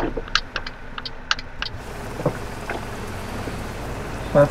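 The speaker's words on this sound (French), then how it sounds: "Ça, j'avais pas demandé par contre la pluie." Rain pattering in a truck-driving video game, a steady wash of drops behind a few brief high ticks near the start and a low thump midway, with no talking.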